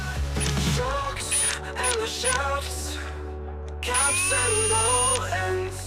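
A power drill whines steadily at close range, drilling an RC car shock shaft out to 3.5mm, its motor pitch shifting as it bites into metal, with a brief easing before speeding up again.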